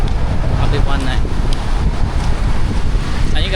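Steady wind gusting loudly across a seaside spot, roaring and buffeting the microphone throughout with a continuous low rumble and no clear pauses.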